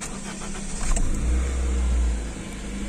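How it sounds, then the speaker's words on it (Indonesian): A car engine warming up on a morning, a steady close low rumble that swells briefly as the engine revs partway through, then settles back to an even idle. "Jadi aku manasin mobil dulu."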